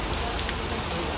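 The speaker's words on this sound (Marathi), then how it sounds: "हे बघा किती जोरात पाऊस आलाय." Heavy rain pouring steadily, a dense continuous hiss of drops hitting surfaces close by, with no pauses.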